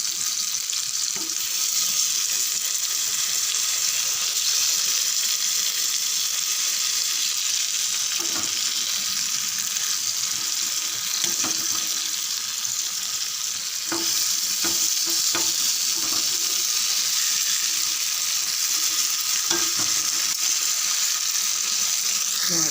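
Small nethili (anchovy) fish frying in hot oil in a pan, a steady, dense sizzle throughout with occasional soft clicks and stirs, close and loud, no talking.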